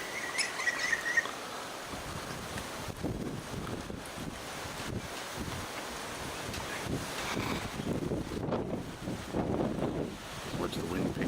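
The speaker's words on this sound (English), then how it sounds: "Watch the wind pick up." Wind blowing outdoors at Loch Sport, a steady rushing buffet against the microphone that strengthens toward the end, with faint bird and water sounds behind.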